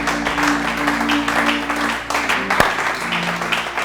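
A church congregation applauds to acclaim the king, a sustained burst of clapping with a low hum beneath and one sharp knock partway through.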